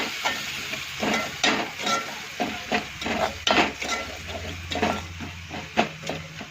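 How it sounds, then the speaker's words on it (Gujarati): Tomatoes with salt, coriander powder and garam masala sauté in a pan for an ivy gourd (tindora) curry: a steady soft sizzle broken by repeated scraping stirs of a spoon against the pan, close and moderately loud, with no talking. "હવે બધું મસ્ત શેકાવી દઈએ"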